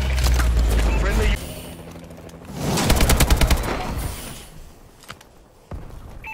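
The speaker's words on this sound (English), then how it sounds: "Friendly bombing run clearing the way." Friendly bombing run in a multiplayer shooter match, with heavy explosive blasts and crackling impacts swelling mid-way, over ongoing gunfire and announcer voice lines.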